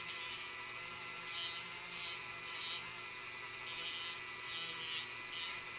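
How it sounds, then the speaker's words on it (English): Steady high-pitched whine of a rotary tool's sanding bit grinding against metal on an action figure under repair, continuous with slight surges as the bit is stroked across the part, no talking. "don't hold the sanding bit to the metal for too long. Just kind of go in strokes."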